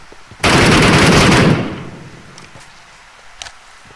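Automatic M4 rifle fire in the battle-royale game PUBG Mobile, one loud sustained burst lasting about a second, then a fading tail and a few faint clicks.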